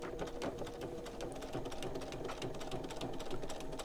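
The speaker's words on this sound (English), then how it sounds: "I'm sewing basically from one edge to the other." A sewing machine stitches quilt block pieces from edge to edge in a quick, even mechanical rattle that runs steadily and fairly softly from start to finish.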